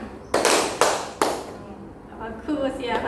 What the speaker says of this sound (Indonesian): Tepuk dulu, tepuk siang